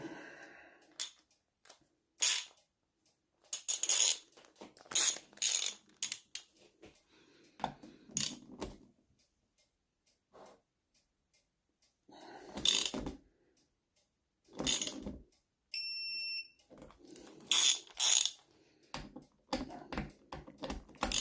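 A ratchet with a 10 mm socket tightens bolts on an NSU Quickly three-speed moped engine, making short bursts of rapid clicking close up, separated by pauses, with occasional faint metallic tinks.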